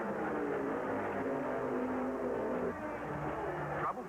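A race car engine at the 1979 Indy 500 runs again in the pits after stalling, a steady unbroken drone that is fairly loud and continuous, with a brief dip near the end.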